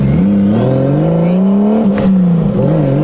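A big-turbo BMW E36 engine revs loud and close in a steady droning tone that wavers and stumbles as it breaks up under load.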